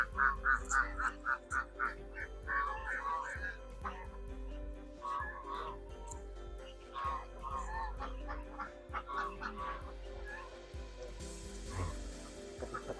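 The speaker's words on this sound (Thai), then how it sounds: "เอาเป็ดในภาพมันเยอะสวยดี" Ducks on a farm pond quack repeatedly in bursts of rhythmic calls, several birds close by, with a low steady hum underneath and a brief hiss near the end.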